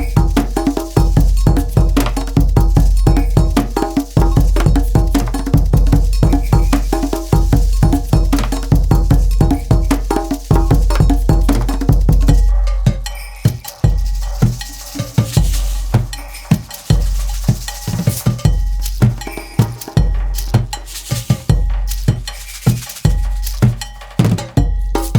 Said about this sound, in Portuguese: Essa é a seção das percussões.